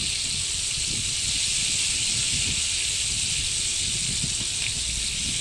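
Battered chicken necks sizzle steadily in hot frying oil, a constant bright hiss that holds evenly from start to finish with no talk over it.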